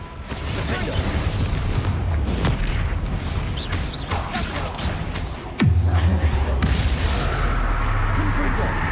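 Spell explosions in Hogwarts Legacy (Confringo, Bombarda) boom and crackle loudly in dense bursts, with a deep impact near the middle. A voice casts the spell names over them throughout.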